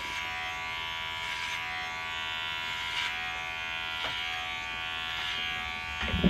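Electric hair clippers fitted with a number two guard buzz steadily and close up while cutting hair during a self-fade, with brief louder flicks as the clipper passes through hair.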